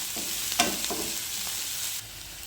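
Shallots and red chillies softly sizzling and being stirred in a pan for beetroot thoran, a low steady frying hiss with a couple of light scraping stirs.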